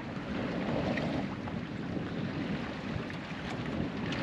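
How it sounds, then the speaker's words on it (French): Steady wind roars across the microphone with a constant broadband rush while sailing near Ile d'Yeu, with boat and water noise mixed in beneath and no voices. "Et le vent remonte un petit peu en puissance"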